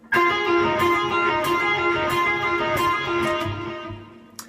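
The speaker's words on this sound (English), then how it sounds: "it'll be one of the first guitar licks that people learn generally when they're playing a lead guitar" A lead electric guitar plays a quick minor pentatonic lick of picked notes, bright and sustained, with a few sharp attacks, then trails off.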